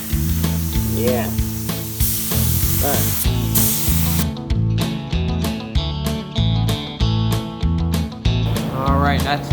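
A spray gun lays clear coat on a 1975 Ford LTD, a steady loud hiss running throughout with bursts and stops, alongside rhythmic background music and brief talk.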